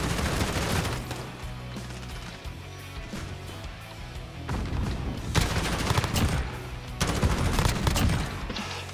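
Bursts of rapid gunfire in Call of Duty Modern Warfare, dense volleys of shots starting and stopping in waves, loud and close with no talking.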